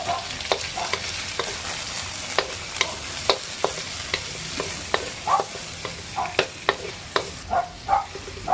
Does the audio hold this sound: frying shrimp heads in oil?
yes